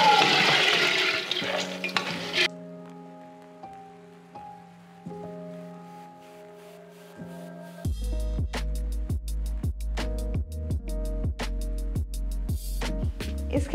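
Extra water is poured into a pressure cooker of dal in a short splashing rush lasting about two seconds, followed by music.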